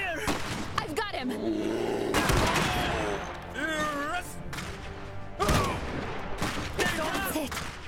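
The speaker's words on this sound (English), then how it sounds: "We're under fire!" Battle gunfire in the Iron Harvest video game: bursts of rattling shots and heavy booms come in waves over a loud, dense roar, with shouted voices rising between the volleys.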